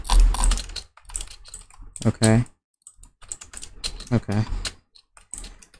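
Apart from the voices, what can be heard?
drag clicking on a computer mouse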